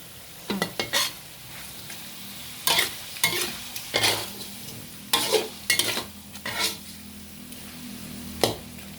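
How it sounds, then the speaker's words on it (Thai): Pork being stir-fried in a pan for a spicy Thai stir-fry, with repeated scraping stirs of the spatula over a steady low sizzle, close and clear, no talking. "มีแต่หมู ผัดหมูไว้ก่อนเป็นสารตั้งต้น"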